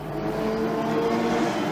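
Porsche race car at the 1988 24 Hours of Le Mans, a steady droning engine note held at a constant pitch, moderately close and continuous with no talk.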